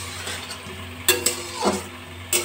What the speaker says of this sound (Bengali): আমি ছানার বলগুলো এপিট ওপিট করে ভেজে নেব।